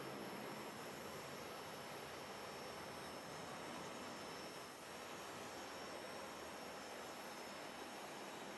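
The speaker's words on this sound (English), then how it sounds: "I think the flagship just taxied by the window" Steady broadband jet engine roar from an airliner taxiing past a terminal window at Charlotte-Douglas airport, a constant muffled rumble and hiss holding even throughout without talk.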